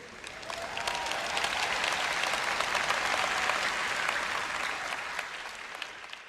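Church audience applauding at a sermon, a full, even wash of clapping that swells in and holds steady for several seconds before easing off at the end.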